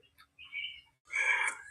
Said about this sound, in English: I hear the birds in your background.